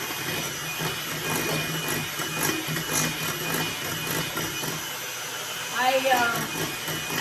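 A loud electric mixer whirs steadily through cake batter for a Portuguese pão de ló sponge cake, with a short voice in the background near the end.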